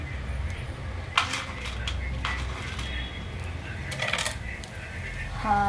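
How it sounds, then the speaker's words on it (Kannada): Chana dal and mustard seeds dropped into hot oil in a pan, a few sharp rattling clinks and a spoon tapping against the pan over a low steady sizzle, close by. "ಎಣ್ಣೆ ಕಾಯ್ದ ನಂತರ ಸಾಸಿವೆ ಹಾಕ್ತೀನಿ. ಕಡಲೆಬೇಳೆ ಹಾಕ್ತೀನಿ"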